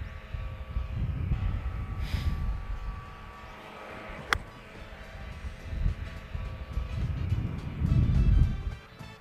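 Gusty wind blows across an outdoor golf course, buffeting the microphone with a low rumble that swells and fades throughout; a single sharp click sounds midway.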